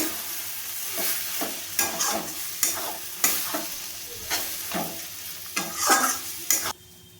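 A spoon stirs thick mango pickle chutney in a pan with a rhythmic series of scraping strokes, close and fairly loud, with a faint sizzle underneath and no talking.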